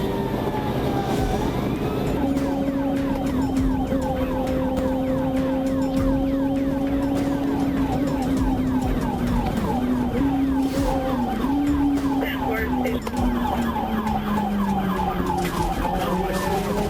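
Police sirens wailing steadily during a freeway pursuit of a plateless sport bike, a loud continuous siren sweep close by, with a second tone layered over it and no talking.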